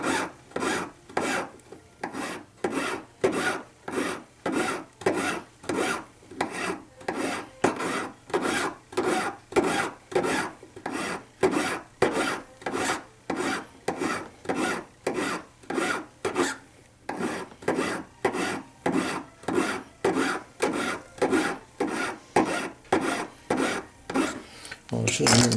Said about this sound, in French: c'est le bout de l'index qui sert un peu de butoir à la lime pour que la lime se positionne toujours à la bonne place sans toucher la boule